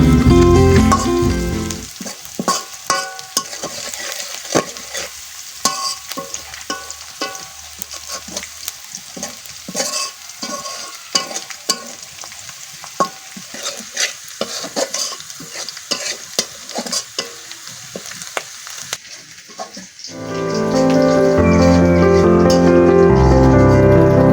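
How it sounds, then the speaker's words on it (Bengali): Chopped chillies, onion and garlic fry in hot oil while being stirred, giving a busy sizzle with repeated scraping clatter from the utensil. The frying swells into a louder, denser hiss in the final seconds. "তেলের মধ্যে দেওয়া মরিচ, পেঁয়াজ এবং রসুন ভালোভাবে ভেজে নিতে হবে।"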